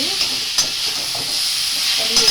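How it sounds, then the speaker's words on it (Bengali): Chopped mango for chutney is stirred in a hot pan, giving a steady soft sizzle with a few scraping spatula strokes on top. "এটা কি আমটাকে খুব ভালো করে কষাতে হবে আমটাকে কষিয়ে"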